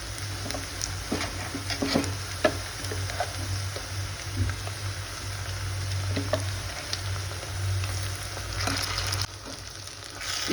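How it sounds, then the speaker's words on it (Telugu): Ground masala paste for a brinjal curry fries in a hot pan, a steady close sizzle broken by scraping clicks of a spoon stirring it. "ఇప్పుడు మనం మిక్సీ పట్టుకున్న పేస్ట్ వేద్దాము"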